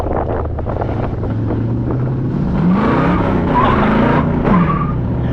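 A 1979 Chevy El Camino with a small block 400 engine roars steadily and loudly, its pitch rising and falling as it revs under heavy wind buffeting on the microphone. No one talks.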